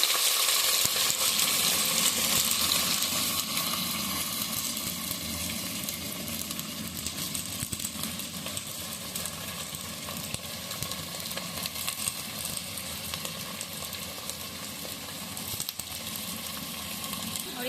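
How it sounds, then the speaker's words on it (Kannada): Chickpeas tipped into hot tempering oil for a Kabuli chana sambar set up a steady, close sizzle and crackle that runs throughout, with light scraping and stirring noises. "ಎಣ್ಣೆ ಒಗ್ಗರಣೆ ಆದ ತಕ್ಷಣ ಕಡಲೆಕಾಳನ್ನ ಒಗ್ಗರಣೆಗೆ ಹಾಕುತ್ತಾ ಇದ್ದೀವಿ"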